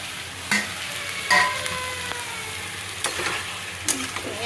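Pointed gourd frying in an oil-filled pan, a steady sizzle with intermittent sharp scrapes and clinks of stirring, close and moderately loud, with no talk.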